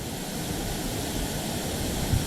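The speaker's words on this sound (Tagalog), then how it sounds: "ang maririnig mo lang is yung bagsak ng tubig mula sa taas" Awao Falls waterfall, water dropping from above, a steady dense roar that stays even and constant, loud and close, with no talk over it.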